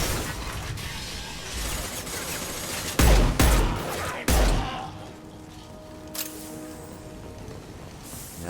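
Hand cannon fire in the Mass Effect 2 video game: a few heavy, sharp shots crack out in quick succession mid-clip amid a steady din of combat noise, then a quieter stretch with a faint electronic tone.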